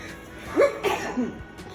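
A single close sneeze set off by black pepper while seasoning a pork roast in a home kitchen, a quick sharp burst followed by a short voiced sound, with quieter noises around it.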